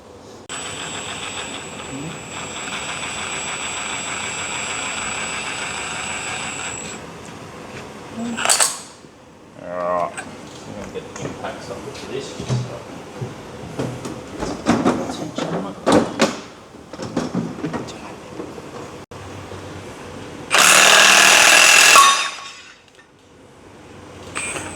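KAD ultimate flywheel puller working a flywheel off in a workshop: a steady whine early on, then scattered metallic clicks, clanks and ratcheting taps, and a loud burst near the end as the flywheel comes free.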